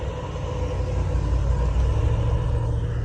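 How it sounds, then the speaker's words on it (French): A convoy of cars heads out at the start of the Coupe des Alpes rally, a continuous loud low rumble of engines rolling past nearby with no talking. "Et là, il y a un convoi de voitures qui arrive."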